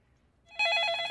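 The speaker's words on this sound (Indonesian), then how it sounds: "Di saat yang bersamaan ada telepon masuk" A telephone starts ringing with an incoming call, its bright electronic trill kicking in abruptly after a moment of near silence and continuing loud and steady to the end.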